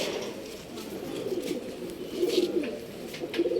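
A female Giribaz pigeon coos close by in soft, low, throaty repeated phrases, over a quiet background hum.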